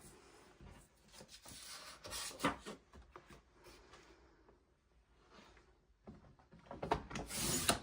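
Scissors cutting 12-inch paper strips for a twisted ribbon tree craft layout, a run of close rasping, scraping snips with short pauses and a louder burst of cutting near the end, no talking.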